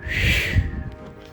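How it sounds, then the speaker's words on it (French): A whistling flare fired from a flare gun gives a short, loud high whistle over a low rumbling burst, fading within about a second. "Celle-là, c'est une flare sifflante, normalement."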